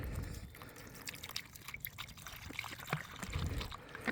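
Water pouring from a bottle and splashing in short uneven gushes and drips, close by, with faint background noise, outdoors on a hike.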